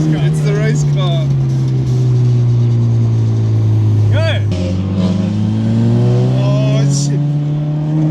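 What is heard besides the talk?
race car engine revving and passing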